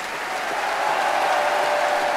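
A concert hall audience at a London performance of Beethoven's Ninth Symphony cheers and applauds the Monteverdi Choir, a dense, steady wash of clapping and shouts that holds at full strength throughout.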